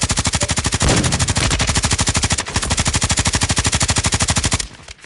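Loud, continuous rapid-fire machine gun bursts from a Call of Duty video game rattle without a break for several seconds and then cut off abruptly.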